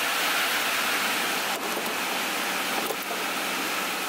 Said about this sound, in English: because right now it's raining.